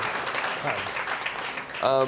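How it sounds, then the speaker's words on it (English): Applause from an audience fills the clip, steady clapping that continues as a voice begins speaking near the end. "Give them a round of applause"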